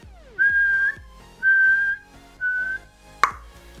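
A referee's whistle blows the end of a match in a football video game, three long shrill blasts in a row followed by a sharp sudden knock, loud and close with no talking.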